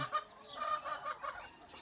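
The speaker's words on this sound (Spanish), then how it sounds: "Ese gallo es inmenso." A rooster clucks in a quick series of short, soft calls, fairly faint and close, with no talking.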